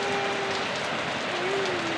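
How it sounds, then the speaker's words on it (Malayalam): Rain falls steadily in a dense, even hiss on the surfaces close by, with a faint tonal hum running beneath it. "ഇപ്പം നിങ്ങളെല്ലാവരും കണ്ടില്ലേ നമ്മളിവിടുത്തെ മഴ."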